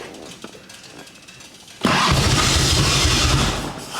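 A 1989 Harley-Davidson Ultra Classic motorcycle engine cranks and fires after a quiet start, then settles into a loud, steady idle that runs close by for the rest of the moment.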